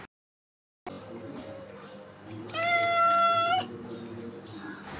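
A cat gives one drawn-out meow, close and clear, after a brief click, with a low steady hum in the background.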